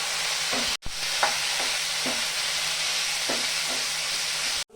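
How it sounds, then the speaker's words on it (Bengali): Spice masala with Kashmiri chili powder fries in a pan for a taro root curry, a constant close sizzle broken by repeated scraping stirs and a brief cut-out. "মশলাটা কষানো হয়ে গেছে"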